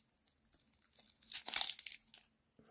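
A package holding an NGC-graded coin is torn open, with plastic film crinkling and ripping in a burst of close, loud tearing that peaks midway and then fades to quiet.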